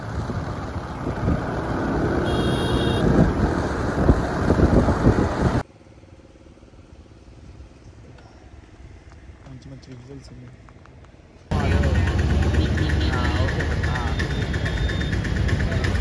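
A speed boat runs on the Godavari river toward Yanam with a loud, steady engine drone. The drone drops to a much quieter stretch midway, then returns at full strength, with voices talking over it.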